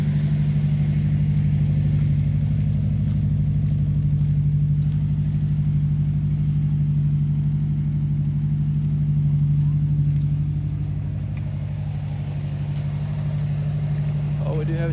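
A just-started car engine idles steadily and loudly throughout, a constant low drone with a slight dip in level toward the end; the engine has a check engine light fault.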